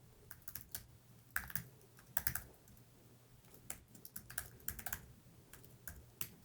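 Someone types an email address on a computer keyboard while creating an account, producing a steady run of quick, close key clicks with irregular rhythm and no voices.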